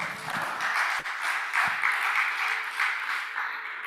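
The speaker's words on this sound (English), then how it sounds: "Let's give him a big round of applause" An audience at a national research week event applauds steadily with dense, sustained clapping that fills the room, with a couple of sharper claps standing out.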